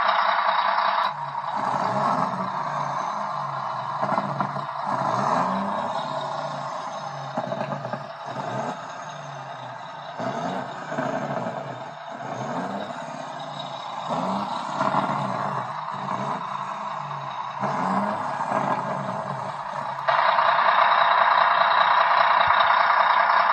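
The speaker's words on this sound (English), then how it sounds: "you can hear we've got Jake brakes" A Knight Hauler truck's Jake brakes give a loud, steady, rough engine-braking drone for over twenty seconds, with a rapid rattling pulse throughout and a brief dip before the roar swells again near the end.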